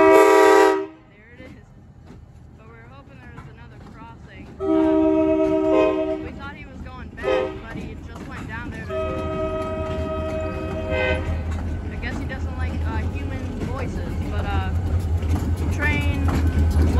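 Several loud blasts of a Maryland Midland sand train's horn, short and long, over the rumbling of the passing train, with people talking nearby.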